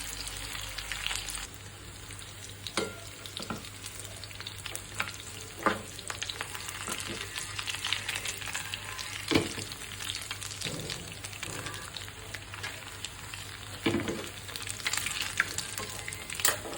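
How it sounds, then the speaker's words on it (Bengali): Chicken pieces fry in a hot pan on a stove, giving a constant sizzle punctuated by sharper scraping bursts as they are stirred every few seconds, close and clear with no voices. "চিকেনগুলো ফ্রাই হয়ে গেছে, চুলা বন্ধ করে দিলাম।"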